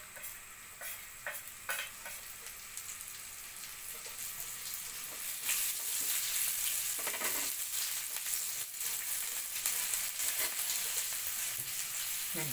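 Cumin seeds and green chillies crackle and sizzle in hot oil in a pan for a Maharashtrian dahi bhendi, a steady frying hiss with sharper pops and occasional stirring clicks and no talking.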